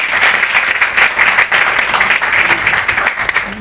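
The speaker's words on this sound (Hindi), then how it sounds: "एक जोरदार ताली मैं सर के लिए चाहूँगी" Loud, sustained applause from a large audience, steady clapping filling the room for several seconds with no speech.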